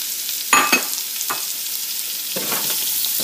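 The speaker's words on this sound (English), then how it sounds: "It's been frying for about a minute" Steady sizzling of oxtail frying in a pot, broken by a few louder bursts of stirring or scraping, close and without speech.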